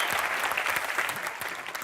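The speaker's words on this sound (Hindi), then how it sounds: "जोरदार तालियां श्रीवास्तव जी के लिए" A studio audience at a comedy show bursts into dense, sustained applause, many hands clapping together in a steady wash of sound for the whole stretch, with no one talking over it.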